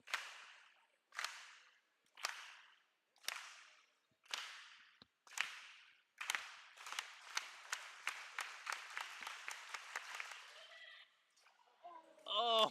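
A crowd at a pole vault street event claps in slow, evenly spaced unison for vaulter Jackson Merrill. The claps then quicken into rapid rhythmic clapping and fade, with a brief voice at the end.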